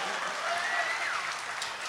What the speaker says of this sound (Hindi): तो एक बार जरा मिलके ताली बजा दीजिए तो अच्छा लगे